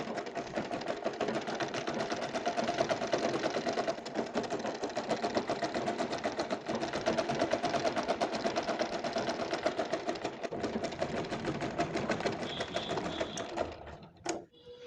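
A domestic sewing machine stitches sharara pant legs in a fast, continuous whirring chatter for most of the stretch, then slows and stops near the end with a few clicks.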